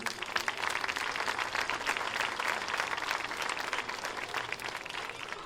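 An audience applauds two music school teachers at a live bagpipe band gathering in Castrillón, a steady, dense wash of clapping that holds at even loudness for the whole stretch, with no voices over it.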